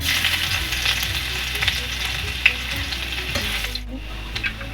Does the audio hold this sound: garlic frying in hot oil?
yes